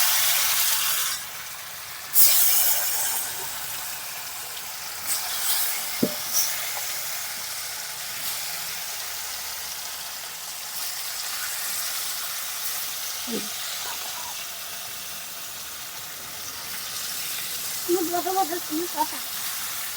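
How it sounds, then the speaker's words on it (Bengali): Paneer sizzles in hot white oil in a wok, a steady frying hiss lasting throughout with occasional clinks and stirring sounds near the end. "এখন পনিরটা ভেজে নেব"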